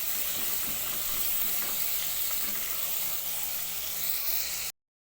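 Tomato sizzles and fries steadily in a pan while being stirred, a continuous close hiss with faint scraping, ending abruptly.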